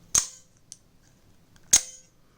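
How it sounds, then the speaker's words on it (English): Spring inside an OTF knife snaps twice with sharp metallic clicks about a second and a half apart, close and crisp, with a faint tick between them during reassembly. "We got our spring twang sound."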